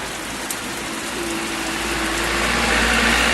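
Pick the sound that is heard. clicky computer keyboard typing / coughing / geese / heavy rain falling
heavy rain falling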